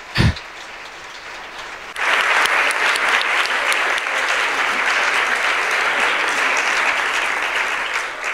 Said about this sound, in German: Aber zunächst einmal Applaus für die Dolmetscherinnen und Dolmetscher.